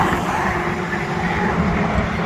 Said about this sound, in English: Especially when there's a lot of cars on track.